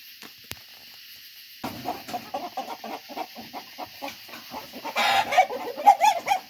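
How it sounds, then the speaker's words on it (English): A rooster clucks at night inside a farm coop where the birds roost. Scattered soft clucks grow into louder, close, repeated clucking and squawks toward the end, with no talking. "I think that's a rooster."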